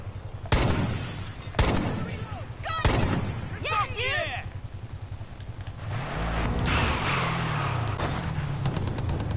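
Video game gunfire in Far Cry 5, with several loud, sharp shots early on, then bursts of rapid fire amid engine noise and in-game effects, while players talk over the action.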